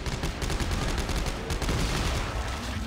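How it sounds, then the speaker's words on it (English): Rapid, dense gunfire in the video game Dead Space 3, shotgun blasts among a continuous barrage of shots, loud and sustained with no talking. "Kinda wish I hadn't shotgunned that."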